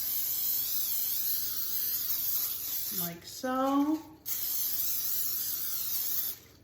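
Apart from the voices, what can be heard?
spraying Pam cooking spray into a casserole dish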